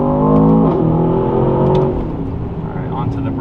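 Aston Martin DBX 707 prototype SUV accelerating hard on Miami roads, a loud, close engine roar with rising then shifting pitch as it changes gear, settling into a steady drone.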